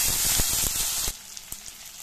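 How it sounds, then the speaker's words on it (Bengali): Garlic and ginger fry in ghee with a loud, dense sizzle and crackle that suddenly drops to a much quieter sputter with scattered pops. "হালকা ভেজে নেব একটু।"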